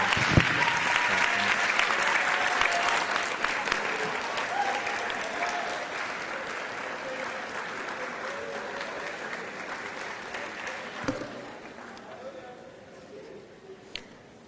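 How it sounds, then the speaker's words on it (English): Graduates at a 12th grade graduation ceremony turn to applaud their families, a large crowd clapping loudly at first and then gradually fading away over about fourteen seconds, with a few murmured voices. "Would all graduates please turn around to the audience and give your families one more round of applause?"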